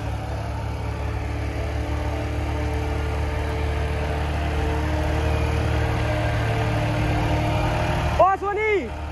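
A tractor engine labours under heavy load during a tractor pulling contest between a Balwan and a Sonalika, a steady low drone throughout with faint crowd voices, then a brief burst of louder activity near the end.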